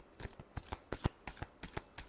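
A deck of tarot cards is shuffled close by in a quick series of crisp riffling bursts, about a dozen short flutters in roughly two seconds, with no voices.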